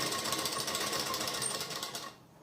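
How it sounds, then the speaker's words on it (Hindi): A sewing machine stitches a lined suit with a rapid, even mechanical chatter, running close and steady before cutting off abruptly near the end, with no talking. "तो मैं यहाँ तक सिलाई कर लूँगी।"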